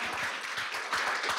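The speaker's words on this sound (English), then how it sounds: "Yeah, you can clap it up for that." Audience clapping at a poetry reading, a brief burst of many hands applauding together, moderately loud and steady with a slight swell near the end.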